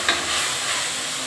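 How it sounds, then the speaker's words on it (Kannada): Chicken frying with onions in hot oil while being stirred, a loud, continuous close sizzle with faint scraping from the stirring and no talking. "ಚಿಕನ್ ಹಾಕಿದ ತಕ್ಷಣ 2 ರಿಂದ 3 ಸಲ ಚೆನ್ನಾಗಿ ತಿರುಗಿಸಿ ಅದೆಲ್ಲ ಚೆನ್ನಾಗಿ ಮಿಕ್ಸ್ ಆಗಿ ಬೇಯಬೇಕು, ಎಣ್ಣೆ, ಈರುಳ್ಳಿ, ಚಿಕನ್"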